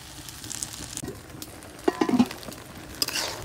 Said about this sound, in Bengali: পুঁই শাকগুলোকে আমি ভালোভাবে কষাই নেব